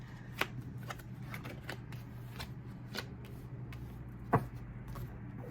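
Oracle and tarot cards being shuffled and drawn from their decks, a series of soft close riffling snaps and flicks in an irregular rhythm over a faint steady hum, one sharper slap near the end.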